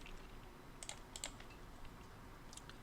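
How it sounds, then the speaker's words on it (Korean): The ESC key and a few other keys are pressed on a computer keyboard during 3D modelling work in Rhino; a handful of faint, crisp clicks sit over a steady background hiss, with no talk. "키보드에 ESC 버튼 눌러도 꺼져요"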